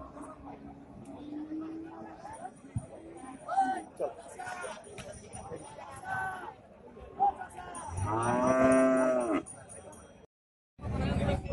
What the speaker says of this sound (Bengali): আপনারা এখানে সার গরু আপনাদেরকে দেখানোর চেষ্টা করছি